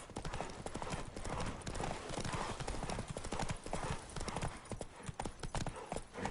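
A horse in the video game The Witcher 3 gallops with rapid hoofbeats pounding in a steady rhythm, loud and close, with a rush of motion noise around them and no talking.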